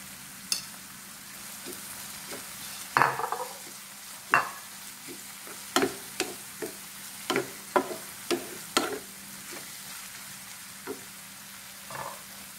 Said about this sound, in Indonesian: Lalu campurkan cabai rawit merahnya. Kemudian aduk lagi.